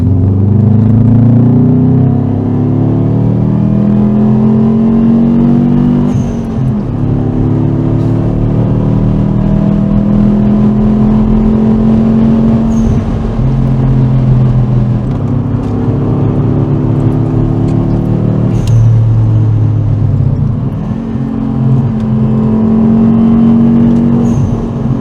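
A Subaru WRX's 290 hp turbocharged engine pulls hard from inside the car, revs climbing through repeated gear changes with brief dips between them, loud and close throughout.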